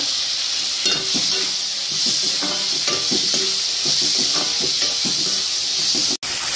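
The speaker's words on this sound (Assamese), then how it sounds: "এতিয়া অলপ ভাজি ল'ব।" Jackfruit seeds with salt and turmeric fry and get stirred in a pan, giving a steady close sizzle with soft scraping strokes of the spoon throughout.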